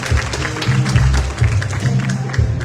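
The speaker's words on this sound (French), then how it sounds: "Merci d'applaudir." Applause from an audience at the RFI Discovery Prize ceremony, a steady dense patter of many hands clapping together that holds for a few seconds, close and fairly loud.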